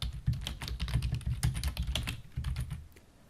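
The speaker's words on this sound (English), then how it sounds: "I'm going to type in Risk Management 101." Fingers type on a computer keyboard in a quick, irregular patter of close, crisp keystrokes, with small pauses between bursts and no voices.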